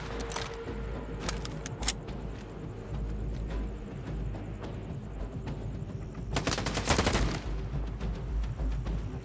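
Gunfire in the PC shooter STALKER 2, a handful of sharp isolated shots early on and then a dense burst of rapid fire in the middle, over a constant low in-game rumble.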